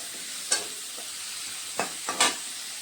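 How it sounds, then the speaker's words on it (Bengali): Potato pieces seasoned with turmeric and salt fry in oil with a soft, faint sizzle, broken by a few sharp scraping stirs of a spatula in the pan. "তো এখানে আমি এই তেলের মধ্যে আমি ভেজে নিচ্ছি এগুলোকেও"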